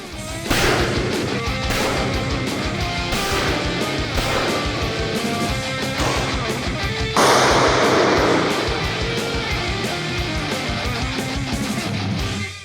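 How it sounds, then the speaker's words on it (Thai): Rapid gunfire from rifles and pistols at an indoor shooting range during a police special operations challenge, with many sharp, loud shots in quick succession, overlapping almost without pause for the whole stretch. "ต้องเข้าไปยิงปืนในอาคารยิงปืนนะครับ มีปืนบนมือกับปืนพก ต้องยิงให้ถูกเป้า"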